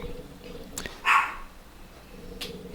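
A puppy gives a single short, high bark at moderate distance, surrounded by quiet room tone.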